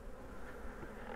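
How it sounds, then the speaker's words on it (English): Honey bees buzzing steadily around a hive, a close, continuous drone with no pauses. "They look like some happy bees"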